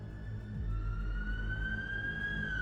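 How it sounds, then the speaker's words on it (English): A police siren wails steadily in the distance, its tone holding then rising, over a low rumble of traffic. "I heard the police sirens"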